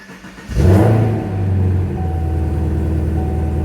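A Chevrolet Camaro ZL1 with standard exhaust cranks and fires up loudly close by, then settles into a steady, deep idle rumble.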